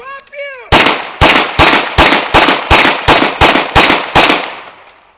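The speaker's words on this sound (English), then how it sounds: "shots fired" A police officer fires about nine gunshots in a quick, fairly even string, each sharp loud crack trailing into a brief echo. A short shout comes just before the first shot.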